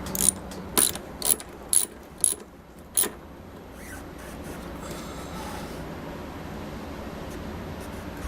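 A ratchet clicks in about six quick, sharp bursts while the engine of a Baja is worked on. The clicks are followed by a faint, low mechanical background with no talk.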